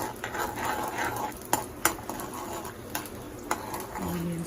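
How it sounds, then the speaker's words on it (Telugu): Onions frying in a pan for an egg tomato curry, a steady moderate sizzle broken by several sharp spoon knocks and scrapes against the pan, close up with no talk. "ఫ్రై చేసుకోవాలి. ఆనియన్స్ ఫ్రై చేసేసుకొని"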